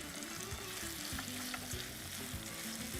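Dried red chilies and ginger sauté in a hot pan, a steady dense sizzle of frying with scraping stir strokes close by, no voices.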